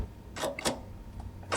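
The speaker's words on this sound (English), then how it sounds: "It's buttons on a plane panel. Cockpit." A few chunky mechanical clicks and clacks of aircraft cockpit panel buttons and switches being flipped, spaced apart with a quiet pause between them.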